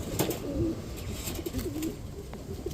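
Several pairs of domestic pigeons, including green-necked and speckled birds, give soft, low, repeated cooing calls close by against a faint background hiss.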